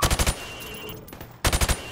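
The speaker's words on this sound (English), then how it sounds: "I want you to shoot the targets through the wood." Automatic gunfire in Call of Duty: Modern Warfare Remastered, shooting targets through plywood: two close, loud bursts of rapid shots, about four to five rounds each, split by a short quiet gap.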